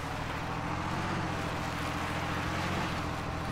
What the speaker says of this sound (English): Tractor race!